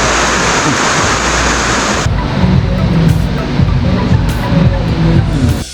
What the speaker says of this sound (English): it's a big rain, started pouring rain.